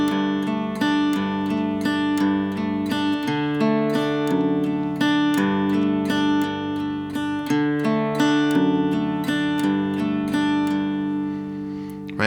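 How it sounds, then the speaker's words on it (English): An acoustic guitar plays arpeggiated chords, picking each note one at a time starting from the root. The notes ring out in a steady repeating pattern with no other instruments, loud and close. "So we're just gonna arpeggiate starting on the root note,"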